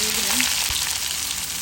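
Chopped onion sizzling in hot oil in a pan after minced garlic, for a shrimp bhuna, a steady close hiss with a faint clink partway through and no voices.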